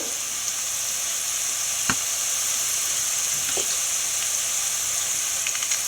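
Dried red chili powder sautés in oil with curry leaves for a mango pickle, a constant bright sizzle with a couple of sharp scraping stirs, close and fairly even, with no voices.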